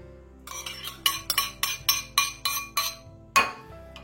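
White chocolate melted and being stirred into cream for a chocolate mousse, making about a dozen quick, regular clinks of a utensil against a bowl that stop, followed by one louder knock.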